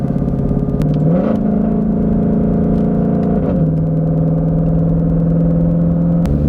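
A tuned car accelerates through a pull with a steady loud engine drone, a pitch step up near the start and a shift drop midway, with no talking.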